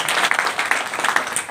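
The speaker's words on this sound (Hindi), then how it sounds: "एक बार ताली बजा दो, जोर से।" An audience at the annual meeting of the Gurav Samaj Kalyan Sangh breaks into a short, lively burst of clapping that sounds close and fills the room.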